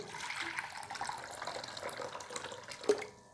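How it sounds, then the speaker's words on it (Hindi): Water poured into a bowl while making almond milk, a soft, continuous splashing trickle, faint and close, with a small clink near the end. "तो सबसे पहले हम बाउल के अंदर पानी ले लेंगे"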